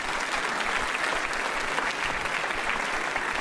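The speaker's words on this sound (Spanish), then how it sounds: "Me han puesto el cartelito de aplauso." Audience applause at a Sony PlayStation press conference during Paris Games Week 2017, a steady dense wash of clapping from a large crowd that holds at even loudness throughout with no talk over it.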